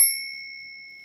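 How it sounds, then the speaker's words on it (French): A vintage original bicycle bell with a Saint Christopher emblem, on a tandem bike, rings once with a bright metallic ding whose clear tone lingers and slowly fades, close and alone. "Voilà ici la sonnette officielle du vélo d'origine."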